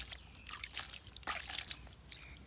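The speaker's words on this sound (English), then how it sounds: "put some water." Water poured into a toy cement mixer truck, a faint splashing trickle in short irregular bursts close by, quiet and alone.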